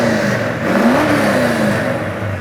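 Supercharged 1969 Chevy Nova engine revving, a loud close mechanical drone whose pitch rises and falls once, steady and alone without talk.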